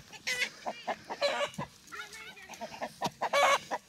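Rooster clucking and squawking on a ranch in Oaxaca, Mexico, a quick series of short agitated calls close by, with people speaking faintly in the background.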